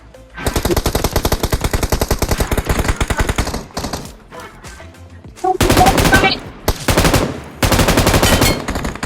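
Loud, close automatic gunfire rattles in fast sustained bursts with short pauses in the BGMI PUBG Mobile battle royale game.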